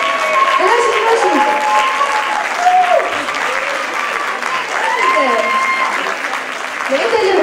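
Sustained loud audience applause at a hip hop dance competition, dense clapping filling the whole stretch, with someone talking over it through a PA.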